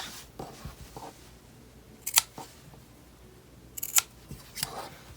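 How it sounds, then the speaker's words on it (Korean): Scissors snip quilting fabric at the corners of a flat square pouch, with several sharp, close cutting clicks spaced irregularly over quiet handling noise. "여기 모서리 부분도 이렇게 원단을 살짝 잘라내주겠습니다."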